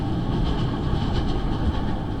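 A DEMU diesel train on the Nay Pyi Taw to Yangon line rumbles steadily at close range, a dense continuous rolling roar with faint rhythmic clatter throughout.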